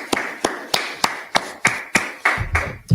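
A congregation at a religious gathering claps in slow, even unison, about ten crisp beats spaced regularly and close by, each hit sharp with a short decay, without speech.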